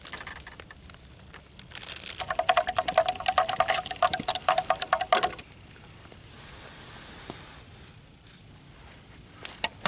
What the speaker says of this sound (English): Our water came to a boil. We're gonna make up some oatmeal. We're just gonna pour it right in the bag.